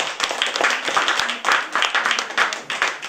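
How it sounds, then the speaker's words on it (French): A crowd applauds with lively, uneven clapping that rises and falls in bursts, fairly close, with a few voices mixed in. "On applaudit le public."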